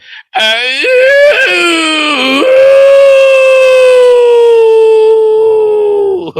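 A loud, sustained melodic call to prayer blares from a mosque loudspeaker, one wavering voice holding long drawn-out tones with slides in pitch, harsh and amplified, filling the whole span alone.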